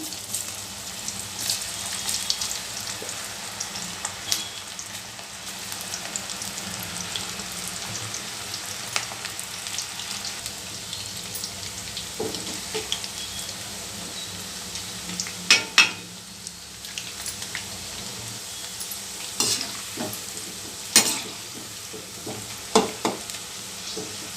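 Onion pakoda fry in hot oil, a fresh batch going in. A steady crackling sizzle runs throughout, with intermittent clinks and scrapes of stirring and handling, close by and fairly loud.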